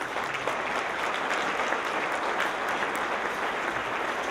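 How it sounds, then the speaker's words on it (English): Steady audience applause at a community awards ceremony, a dense, even patter of many hands clapping that holds at a constant level throughout with no talk over it. "So one more round of applause."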